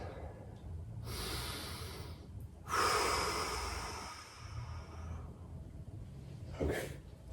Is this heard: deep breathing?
yes